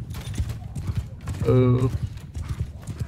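A horse in Mount & Blade 2: Bannerlord gallops with rapid clip-clop hoofbeats during a battle, a whinny rising briefly in the middle as someone talks over it.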